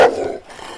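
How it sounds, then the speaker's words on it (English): A huge Doberman gives one loud, close bark with a growling edge as it lunges at a window, then the sound fades into a low rumble. "a huge Doberman lunged powerfully at the window behind Jamie's bed,"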